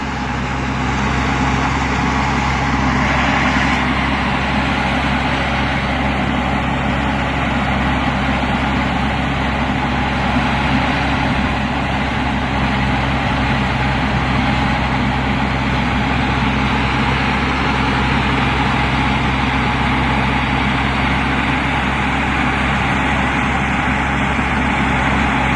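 Diesel road tractor truck idling, a steady, loud, low engine rumble that holds unchanged for the whole stretch with no talk over it.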